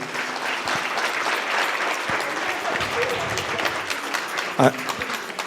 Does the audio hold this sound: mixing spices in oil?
no